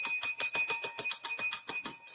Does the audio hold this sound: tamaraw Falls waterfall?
no